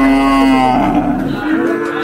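A cow lows loudly and close by at a busy Bangladeshi cattle market, one long, sustained moo lasting about two seconds with no talk over it.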